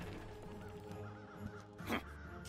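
A crow caws in the video game Pumpkin Jack, a couple of short harsh calls near the end standing out over steady game music.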